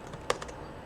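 A few quick keystrokes on a computer keyboard during Java coding, one sharper tap followed by two or three lighter clicks, close and fairly soft in a quiet room.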